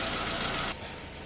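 A car engine idles with a steady low rumble and then cuts out abruptly about halfway through, leaving only faint background noise.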